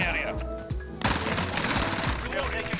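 Bruen tracer rifle fire in Modern Warfare: rapid, loud automatic bursts in a dense game mix, with a voice talking over the shooting.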